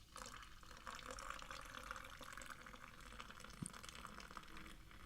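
A drink is poured into a glass at a desk near a keyboard, a faint, steady trickle and fizz of liquid filling the glass at low volume.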